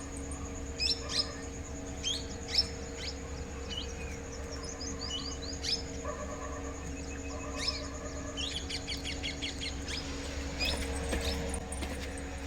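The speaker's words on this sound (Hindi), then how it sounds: "तो यहाँ पर ना सुबह सुबह चिड़ियाँ आती हैं।" Birds chirp on a house rooftop in the early morning, scattered small high tweets coming and going against a steady low background hum.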